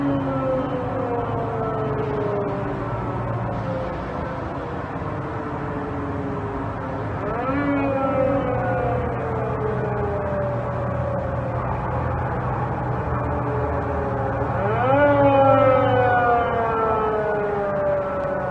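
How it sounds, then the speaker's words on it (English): Moscow's missile air-raid warning sirens under test, a distant civil-defense wail that rises and falls in long sweeping cycles for the whole stretch, several sirens overlapping at slightly different pitches. "Moscow today was testing their missile air raid warning sirens."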